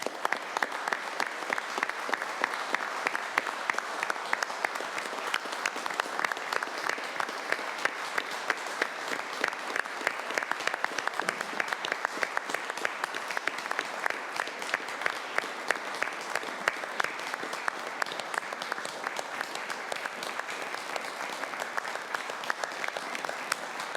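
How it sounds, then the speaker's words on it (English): Sustained, steady applause fills a council meeting room for honouring past members, a dense, even wash of many hands clapping at constant loudness throughout with no talk over it. "can we give a round of applause to those past members in the"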